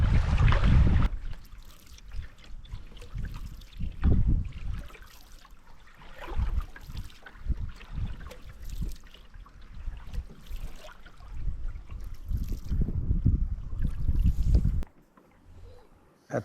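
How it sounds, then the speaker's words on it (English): Canoe paddling on Isaac Lake in the Bowron Lake circuit, with repeated low splashes and water swirls from paddle strokes, close and steady, wind in the background, ending in a brief quiet stretch. "we slowly swung the canoe clockwise"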